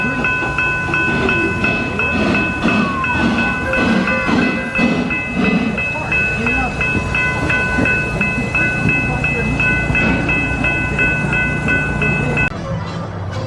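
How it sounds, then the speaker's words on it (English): A theme park train rolls past close by at Busch Gardens Williamsburg, with steady clattering wheels, a whistle tone sustained through most of the pass, and voices faintly underneath. "Oh no, the train's coming. Get clear of the tracks."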